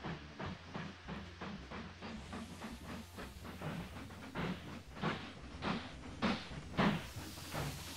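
A steam train rolls through a station in the railway-building game Mashinky, a steady hiss with rhythmic clickety-clack pulses that grow slightly louder toward the end, with no talking.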